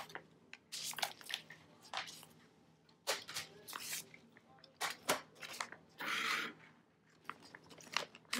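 Washi tape being cut at one corner, a run of short crisp snips and crinkly handling noises, close and fairly quiet, with pauses between bursts and no talking.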